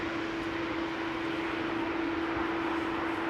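A KLM airliner landing at Amsterdam Schiphol with thrust reversers engaged, a steady broad roar with a sustained tonal hum running through it, loud and unbroken throughout.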